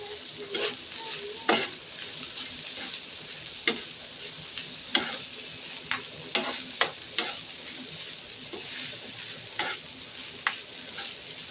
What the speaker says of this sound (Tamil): நல்லா வெந்ததுக்கப்புறம் மேலே நம்ம ரைஸை போட்டுக்கோங்க. ரெண்டு கரண்டி வச்சு இந்த மாதிரி கலரிக்கலாம்.